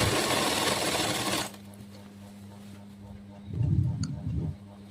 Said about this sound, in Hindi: उसके बाद हम दोहरी सिलाई लगाने जा रहे हैं जिग जैग इस पर